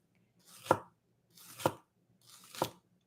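A knife cuts lengthwise through a shallot-like onion on a cutting board, making three separate crisp chops about a second apart. Each slice builds briefly and ends in a sharp tap, with silence between the cuts.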